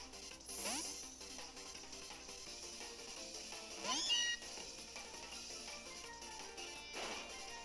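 A cat's cry from the Pokémon Ultra Sun/Ultra Moon video game sounds three times, each a rising meow over steady game music.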